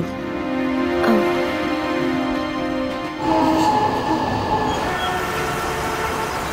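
Steady rumble and rattle inside a moving train carriage, with a sustained metallic whine and a brief squeal, loud and continuous throughout.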